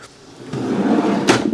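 A workshop cabinet drawer slides open or shut, a soft rolling scrape building over half a second and ending in a sharp knock near the end, close and alone.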